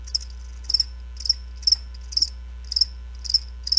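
Crickets chirp in short, regular bursts of trills, clear and close against a quiet background, used as a sound effect in a radio ad during an Erie Otters vs. Owen Sound Attack hockey broadcast.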